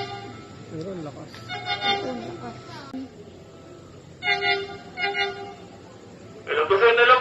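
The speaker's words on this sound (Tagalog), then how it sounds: "Mahabang train yan." A long train hauled by locomotives DHL 9003 and PC 8302 in the Philippines sounds three bursts of horn toots over a running rumble, while people talk nearby.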